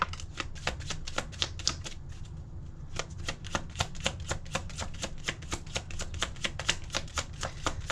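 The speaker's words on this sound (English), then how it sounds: "I'm just pulling cards" Tarot cards being shuffled and pulled, a rapid run of crisp, close card flicks and riffles in an even rhythm, with no talking.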